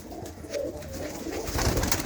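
A pigeon coos nearby in soft, low, rolling calls, a couple of throaty phrases heard close and alone.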